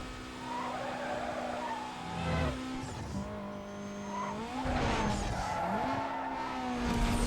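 A car in Need for Speed: Most Wanted (2005, PS2) races with a steady high engine note, then brakes hard with drawn-out tire squeals and skidding, followed by the engine climbing back.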